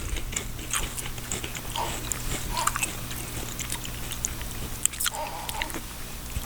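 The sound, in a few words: crunching a barbecue potato chip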